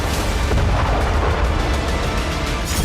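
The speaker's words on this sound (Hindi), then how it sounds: "मिसाइल और रॉकेट का धमाका" Continuous heavy rumbling and crackling from missile and rocket blasts in the war-ravaged city of Bakhmut, loud and dense with no clear pauses.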